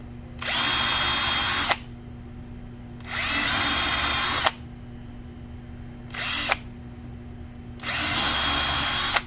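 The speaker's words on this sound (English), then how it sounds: "we just need a small drilling machine" A small electric drill runs in four separate bursts, three long and one short, each a steady high whine with quiet pauses in between, cutting a switch bracket.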